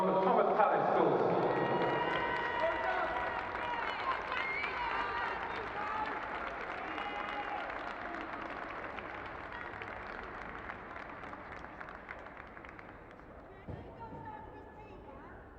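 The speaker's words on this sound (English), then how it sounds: "And once again, a big round of applause for Thomas Tallis Schools." Applause from the audience at a schools' cup final medal ceremony, a broad crowd clapping that swells early, then settles into a long steady patter with crowd murmur underneath.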